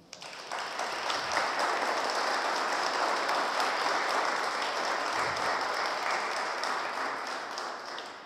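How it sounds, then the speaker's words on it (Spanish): Sustained applause from an audience at a catalogue presentation ceremony in Guadalajara, steady dense clapping that swells in quickly and holds at an even level for several seconds with no talk over it. "Por favor, un aplauso."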